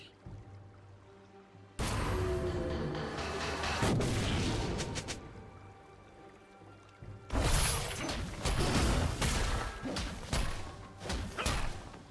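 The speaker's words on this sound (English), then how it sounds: "Red Team's turret has been destroyed." A League of Legends top-lane fight where a turret is destroyed, with heavy thuds, crunching impacts and whooshing effects arriving in two loud bursts with a quieter stretch between them.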